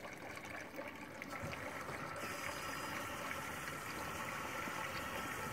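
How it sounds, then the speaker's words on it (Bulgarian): A fruit and grape press fills with mains water at about 3 bar, giving a steady broadband hiss and trickle of running water that holds evenly throughout without talk. "Сега почва да се пълни вода от водопроводната мрежа до 3 бара."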